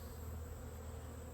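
Many honey bees buzz around their hives, a dense continuous hum that stays steady and fairly faint throughout.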